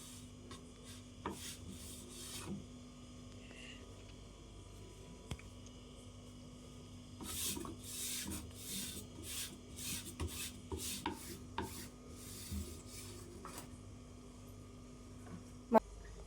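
A white cloth rubs and wipes across a cracked dosa pan in a quiet kitchen. The dry rasping strokes come in short bursts, loudest in a cluster midway, over a faint steady hum.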